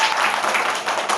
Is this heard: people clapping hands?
yes